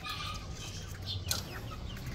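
A Rhode Island Red hen clucking in a backyard poultry pen, soft throaty clucks close by against a steady farmyard background.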